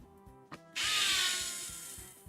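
A power screwdriver drives screws into a GameCube shell, a short click followed by a loud, steady close-up whir lasting over a second that gradually tapers off.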